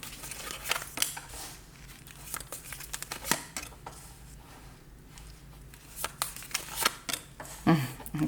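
Tarot cards are shuffled and laid out for a nine-card spread, with soft riffling, sliding and snapping of card stock coming in bursts, fairly faint and close.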